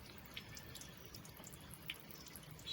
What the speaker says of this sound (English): just drips straight into the engine compartment